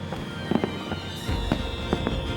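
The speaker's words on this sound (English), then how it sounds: "Saturday nights in July and August, fireworks specially choreographed for our setting" Fireworks burst over a garden on a summer night, with a series of dull, rumbling booms and pops, some overlapping, heard from a distance over a steady background hum.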